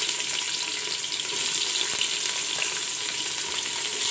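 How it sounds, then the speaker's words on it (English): Sliced onions fry in a pan with cinnamon, black and green cardamom and cloves, giving a steady, dense sizzle that holds evenly throughout with no voices. "Fry the onions till golden brown."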